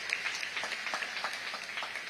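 A crowd at a presidential investors' conference claps steadily, with a dense patter of many hands sustained throughout and no one speaking over it.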